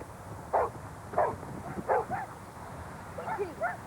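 Several dogs at a dog food advert audition bark and yip in short bursts, about five or six, spaced fairly evenly over a steady background hum, moderately close.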